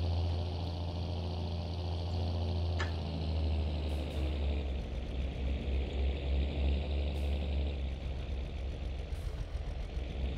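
A tractor engine idles in Farming Simulator 22, a steady low rumble with a faint whine, close and continuous, with a couple of brief clicks over it.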